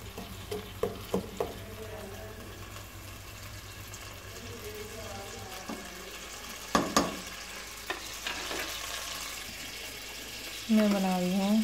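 Ginger, garlic and green chili sizzle in hot oil in a kadai for kadai gosht, a soft steady frying hiss broken by clinks and scrapes of stirring, with a louder sizzle burst near the end.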